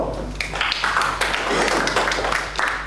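Students in a university education-management lecture clap their hands together in a dense, steady burst of overlapping claps lasting the whole moment, fairly close and loud, with some voices mixed in.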